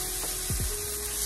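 Tomato pieces go into a hot pan where weenies have browned, setting off a steady, close sizzle with a brief stir-like scrape partway through; no voices.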